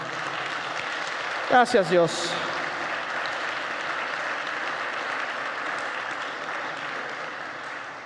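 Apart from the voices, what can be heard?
congregation applause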